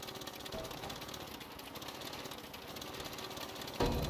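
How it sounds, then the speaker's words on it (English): Vehicle engines built from two base engines running in the video game Scrap Mechanic, a steady buzzing, rattling drone with rapid knocking pulses, continuous and moderately loud, with a brief louder burst near the end. "probably could use the different level of engine to get different sounds for your cars"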